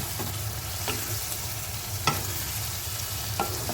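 Potatoes frying with spices in a pan for a Bengali cabbage and fish-head dish, a constant close sizzle broken by a few scraping stirs of the spatula.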